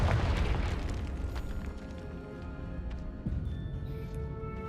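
A Confringo blasting spell explodes in Hogwarts Legacy: a loud, rumbling boom that rolls out and decays into a sustained roar, with a second thud partway through.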